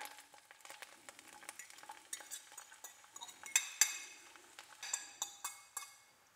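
Onions frying in a pan for an Italian eggplant parmigiana, a steady soft sizzle with scattered clinks and scrapes of a utensil stirring, close and fairly quiet with no talking.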